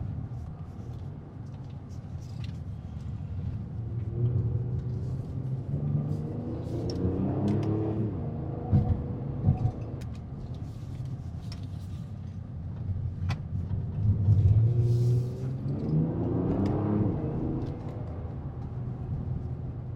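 A 2022 Kia Stinger GT drives along a road, its engine rumbling steadily with rising and falling surges as it accelerates through a stretch, road and cabin noise constant throughout with no talking.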